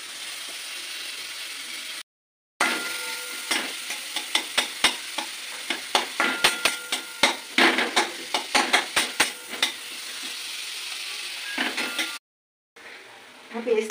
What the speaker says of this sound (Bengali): আমার পেরেস্তাটা ভাজা হয়ে গেছে